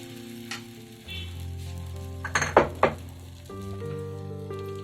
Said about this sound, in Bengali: এক হাতা ব্যাটার তুলে নিলাম আর ফ্রাইং প্যানের মধ্যে দিয়ে দিলাম